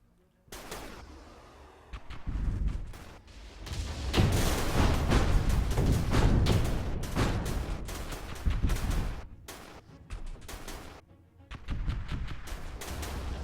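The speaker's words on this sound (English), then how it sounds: "There's a lot of missiles coming in" Missile barrage slamming into ships in the space strategy game Stardrive 2, a dense roar of rapid booms and blasts that swells, churns on loudly for several seconds, dips, then surges again.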